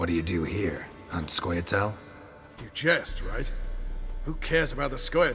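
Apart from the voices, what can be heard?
No distinct noise like a dog, phone or traffic.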